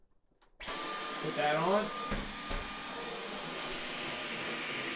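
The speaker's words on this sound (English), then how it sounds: "so when you want to vacuum, you just take that trigger" A Dyson vacuum cleaner fitted with a pet brush attachment starts up abruptly and keeps running at a steady, loud whine, while a person speaks briefly near the start over the motor.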